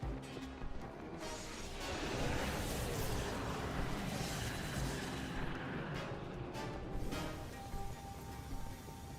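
A cannon fires in Zelda: Tears of the Kingdom, producing a dense, booming blast that rolls into a long, noisy roar and rumble lasting several seconds, loud and continuous with no talk.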